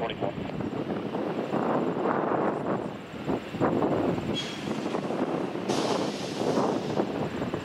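Strong, gusty wind roars across a microphone at an airport ahead of an approaching storm, a loud continuous rush that surges and dips with brief buffeting. A faint steady tone runs through it.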